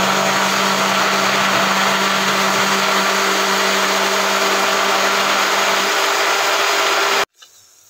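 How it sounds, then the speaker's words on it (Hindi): An electric mixer grinder whirs loudly and steadily as it blends lassi, running without a break before cutting off abruptly near the end. "तो गाइज आज लस्सी बनाते हैं मिक्सी में"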